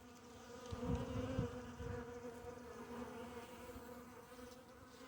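Honey bees from several hives buzz around a feeder tray, a steady droning hum of many insects at close range, fairly quiet and continuous with no speech.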